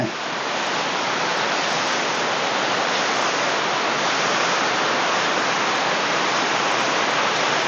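Pha Kluai Mai waterfall in Khao Yai rushes in a loud, unbroken roar heard from above the falls, a constant wash of water with no voices.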